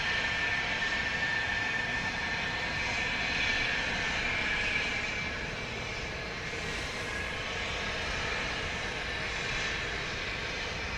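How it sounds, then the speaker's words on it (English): An Embraer Phenom 300 business jet taxis at Dallas Love Field, its engines giving a steady, loud broadband roar with a high whine that holds for the whole stretch without a break. "an Embraer Phenom 300, and it is now taxiing"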